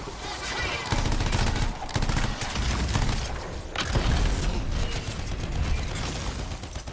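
Heavy gunfire from a large weapon in the Anthem video game, dense rattling bursts with mechanical clanks and booms in a loud, cluttered battle mix.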